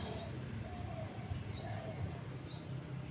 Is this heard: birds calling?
yes